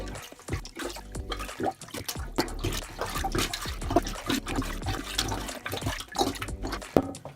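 A plunger works the last water out of a toilet bowl during toilet replacement, giving repeated sloshing, gurgling pushes of water at close range.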